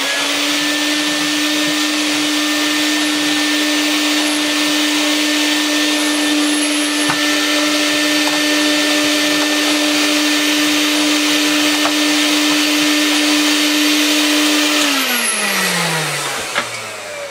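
A Vax 121 vacuum cleaner runs steadily with its straight suction head fitted, a loud continuous motor whine holding constant before winding down near the end.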